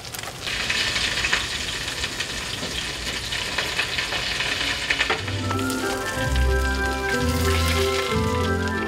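Egg-coated Korean jeon pancakes fry in a pan with a loud, continuous crackling sizzle, and soft music rises beneath the frying halfway through.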